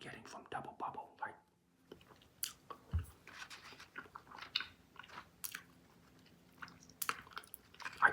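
Close, quiet mouth sounds of chewing Bazooka bubble gum, with soft wet squishes and small crunches under whispered speech.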